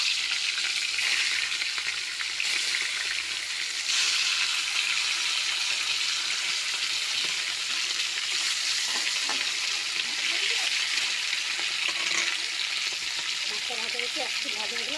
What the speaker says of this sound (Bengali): মাছটা ভাজা হচ্ছে, একটু ভাজা হলে আর একটা আমি উল্টে দেবো।